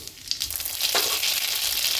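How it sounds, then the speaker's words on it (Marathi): Mustard seeds crackle and sputter in hot oil, a dense hissing sizzle with quick pops, close and steady throughout. "मोहरी चांगली तडतडली"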